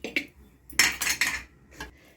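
A brush spreads oil inside a metal cooking pot before a pizza base goes in, making a few short, close clinking and scraping bursts separated by brief pauses.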